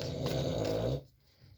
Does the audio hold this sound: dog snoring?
yes